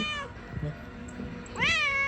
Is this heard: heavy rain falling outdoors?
no